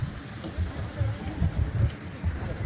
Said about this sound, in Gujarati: વરસાદ આવી ગયો ગાઈસ, અમારે જલ્દી જલ્દી ભાગવું પડશે ગાઈસ